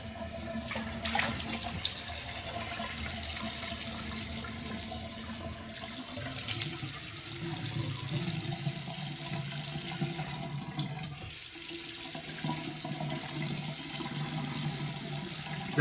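Cold water runs steadily from a tap into a bathroom sink during a straight razor shave, a continuous close splashing hiss that holds for the whole stretch with only slight shifts in flow.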